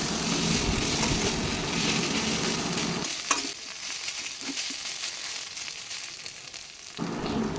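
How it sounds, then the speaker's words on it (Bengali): Vegetables and spice masala sautéing in a pan for a small fish dish: a dense loud sizzle for about three seconds, then a quieter hiss with stirring scrapes and a thump, before the sizzle swells back at the end. "এবার পুরো সবজিগুলোর সঙ্গে ভালো করে মশলাটাকে কিছুক্ষণ কষিয়ে নেব"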